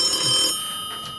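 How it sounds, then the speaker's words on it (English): An old-time telephone bell rings in a short, bright burst, then fades, heard clearly in a vintage radio comedy scene. "telephone's ringing"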